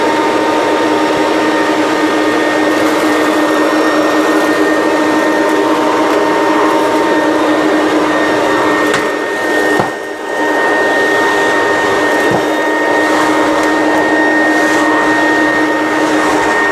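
A vacuum cleaner fitted with a hard floor tool cleans floors with a loud, continuous motor whine and suction roar, briefly dipping once as it moves, close by and without talk.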